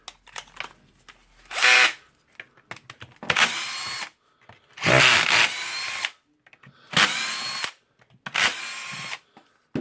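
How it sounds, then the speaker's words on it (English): Bosch GBH 11 SDS-max rotary hammer drill being disassembled with a power drill backing out back-cover screws: five short, loud whirring bursts of a second or so each, separated by pauses, close up with no talk. "now I will unscrew 4 screws here and take the back cover out"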